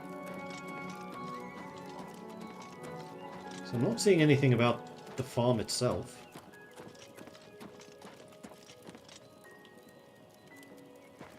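A horse in Oblivion Remastered clip-clops in a quick burst of hoofbeats lasting a couple of seconds, fairly loud, then fades into soft ambient rain-like patter while someone talks.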